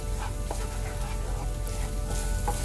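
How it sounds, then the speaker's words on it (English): Eggs scramble and sizzle in a frying pan alongside green beans, a steady close crackle and hiss of frying with faint stirring clicks and no talking. "now that the eggs are beginning to scramble, we're going to mix it up with all of the green beans on the pan"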